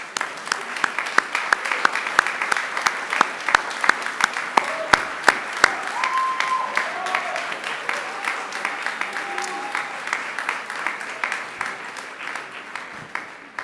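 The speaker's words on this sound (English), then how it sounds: "give them a round of applause in thanks" A graduation audience standing to applaud in thanks, a broad, sustained crowd clapping with sharp individual claps over a steady patter, gradually tapering off toward the end.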